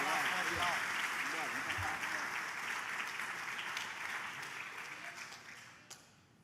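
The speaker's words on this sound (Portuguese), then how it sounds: "Você pode aplaudir ao Senhor?" A crowd at an academic theology lecture on psychology and the church applauds steadily, the clapping strongest at the start and slowly fading over several seconds, with a spoken voice briefly audible early on and a single sharp knock near the end.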